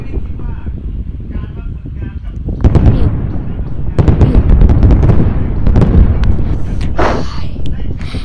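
Repeated booming explosions and blasts burst out in clusters, loud and close, over a constant rumbling background in the game WorldBox, with some chatter mixed in.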